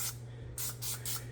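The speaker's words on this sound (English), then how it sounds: "You can either use some olive oil spray that I'm using today. I'm going to lightly spray it on" Olive oil cooking spray hisses in three short bursts as it lightly coats a casserole dish, with a low steady hum running underneath.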